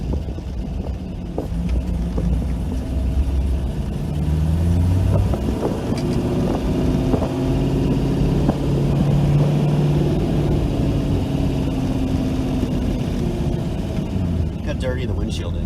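LS1-swapped Dodge Stealth driving, a steady loud engine drone with road and cabin rumble inside the car throughout, the pitch rising and falling gently as it runs.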